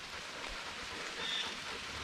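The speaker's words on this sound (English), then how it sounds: "68 degrees and raining right now." Steady rain falling at a campground near Kaaterskill Falls on a 68-degree day, a soft continuous hiss holding even throughout with no voices.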